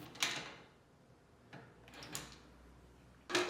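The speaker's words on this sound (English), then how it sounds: "To remove, hold one of the wheels and pull away from the drawer." Plastic side support wheels being pulled off a Bosch dishwasher cutlery drawer, close-up: a few sharp plastic clicks and snaps spaced out with quiet handling noise between them, the last one loudest.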